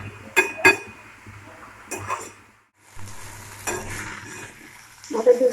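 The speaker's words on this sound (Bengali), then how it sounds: "গ্যাসটা কমিয়ে কমিয়ে ভাজবো।" Eggplant frying slowly over low gas: soft intermittent sizzling broken by sharp metallic clinks and scrapes of a spatula against the pan, close by, with a brief quiet gap midway.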